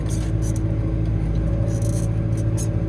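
Fendt 413 tractor engine labouring steadily as it pulls an Ermak 4.5-metre land leveller, a loud, close, constant low rumble with a droning hum and occasional higher rattles, no speech.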